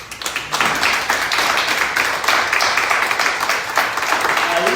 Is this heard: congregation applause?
yes